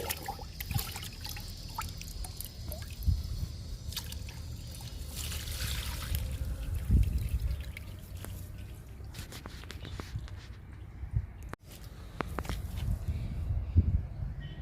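Liquid fertilizer made from lentils, chickpea cake, tea powder and egg powder poured onto two fruit plants, a quiet trickle and dribble of liquid with soft drips, faint and intermittent outdoors.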